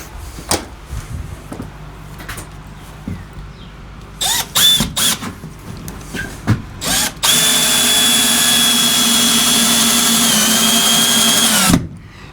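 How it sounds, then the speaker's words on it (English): A power drill drives long screws through a wooden bench beam into metal, with short bursts and handling knocks, then one long loud continuous whine that strains and ends abruptly. "You can feel them catch on the drill."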